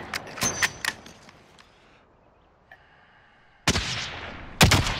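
Gunfire in Call of Duty: Modern Warfare: a few sharp close shots at the start, a near-silent gap with a faint metallic clink, then more loud cracks near the end.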